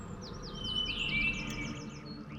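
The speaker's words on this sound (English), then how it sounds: "You can hear the birds and nature." Birds chirp and call in a forest, a run of short repeated tweets and a longer trilling song over a steady background of nature ambience, moderately loud with no talking.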